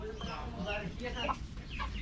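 Rhode Island Red chickens in their coop cluck and chatter close by in a busy, overlapping stream, with a person's voice faintly mixed in.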